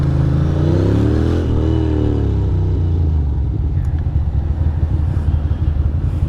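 A Ducati Monster 620 motorcycle engine rumbles loudly while riding, its pitch rising and falling early on before settling into a rough, steady drone with wind buffeting. There is no speech.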